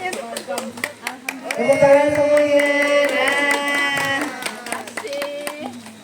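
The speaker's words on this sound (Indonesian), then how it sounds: "Tepuk tangan" A family group at a villa in the Puncak hills claps hands in a brief burst of sharp, close claps while a voice sings or talks loudly over them, followed by scattered further claps.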